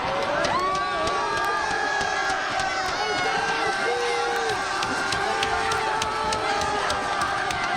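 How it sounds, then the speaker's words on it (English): A packed gym crowd at a girls' basketball game roars and cheers continuously, a dense wall of shouting and whistles, with a voice speaking over it. "Listen to this crowd."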